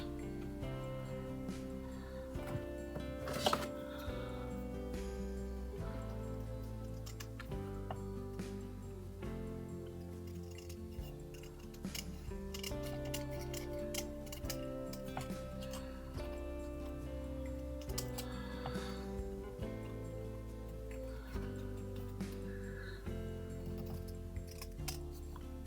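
Scissors snip through card stock during handmade card making, a string of small crisp cuts and ticks sitting under a steady wash of background music.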